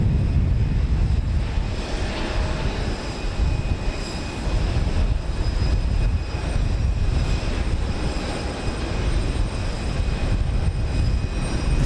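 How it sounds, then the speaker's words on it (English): An Airbus A321neo airliner at Houston Intercontinental airport produces a steady, broad jet engine roar that holds at an even loudness throughout, with some wind buffeting and no voices. "It's an Airbus A321neo."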